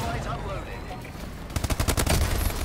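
Rapid automatic gunfire from the video game Call of Duty: Advanced Warfare breaks out as a loud, fast burst of shots after a stretch of muffled in-game ambience.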